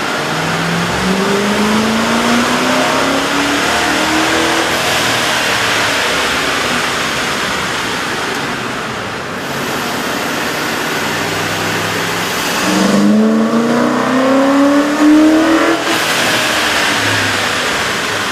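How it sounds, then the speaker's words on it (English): A car engine fitted with a K&N cold air intake revs repeatedly on a dyno, its pitch sweeping upward in two long pulls with a lull between, loud and close under a steady mechanical roar. "we ran the vehicle on the dyno to test the sound comparison versus the stock intake"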